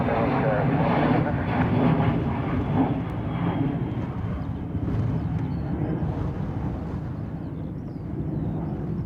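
A Ryanair airliner at Dublin Airport produces a steady, broad jet roar that stays loud and fairly close throughout, with radio voices talking underneath.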